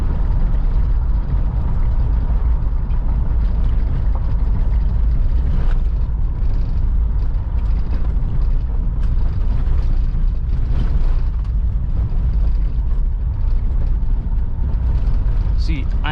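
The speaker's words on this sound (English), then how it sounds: "I am at third gear and it's pulling currently at 60 kilometers per hour" Steady, loud hum of a 2011 Mahindra Scorpio VLX engine pulling in third gear at 60 km/h, with road noise from inside the moving SUV, continuous and droning throughout.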